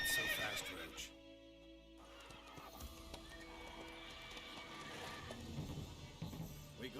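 Roach, a horse in The Witcher 3, whinnies in a game scene, a fairly loud neigh opening the clip, followed by a steady bed of game ambience and faint music.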